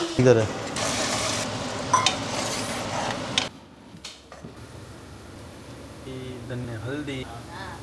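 Hot cooking oil spattering in a pan: a loud, crackling sizzle with stirring for a few seconds that then drops away, while people talk and laugh nearby.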